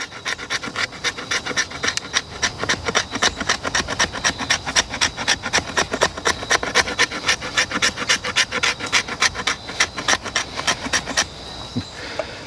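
Knife spine of a coated Schrade SCHF42D Frontier blade scraping resinous fatwood, a steady run of quick, close rasping strokes repeated dozens of times before stopping abruptly near the end.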